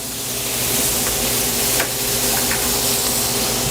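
Scallops pan-searing in butter crackle and sizzle in a steady, dense hiss close to the pan, with a few faint stirring clicks and no talking.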